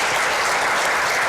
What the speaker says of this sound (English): A round of applause, please, for our triathletes for joining us today.